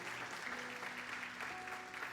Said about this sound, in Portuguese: Vamos lá, melhore o seu aplauso.